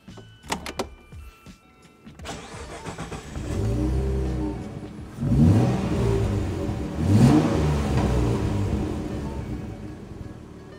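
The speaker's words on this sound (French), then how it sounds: "on va vous faire un démarrage des deux autos et vous allez écouter les mécaniques" A Morgan Roadster V6 engine cranks and fires up, then revs in two strong, rising bursts before settling into a steady idle, loud and close with no talking.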